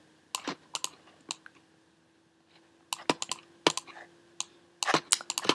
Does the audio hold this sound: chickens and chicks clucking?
no